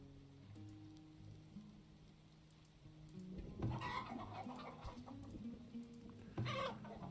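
Chickens cluck and patter in the Farthest Frontier video game, with soft scattered calls building into a couple of louder bursts over a low steady hum of background music.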